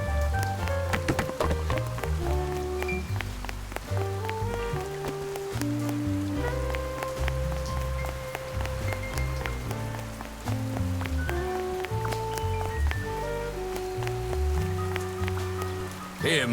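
Rain falls steadily on a lonely street at a bus stop in a cartoon detective scene, a soft continuous patter layered under a plucked, melodic music track.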